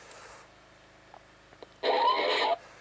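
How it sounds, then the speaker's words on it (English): A faint click or two, then a short electronic burst of buzzy tone lasting under a second, a laser tag gun's start-up noise. "The start-up noise sounds like this."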